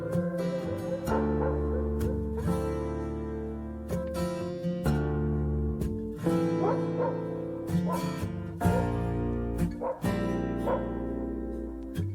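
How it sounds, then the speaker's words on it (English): Dogs bark and yip in repeated bursts woven into a loud music track from an album, with steady harmonic accompaniment. "We'll get the barking."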